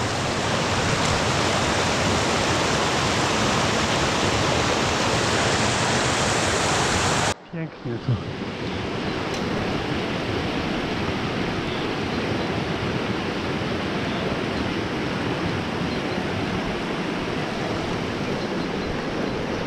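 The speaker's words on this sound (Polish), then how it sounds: "Wspaniała, piękna rzeka." A mountain trout river rushes loud and continuous, as steady broadband water noise, with a brief break partway through before the flow resumes.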